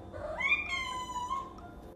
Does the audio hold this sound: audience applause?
no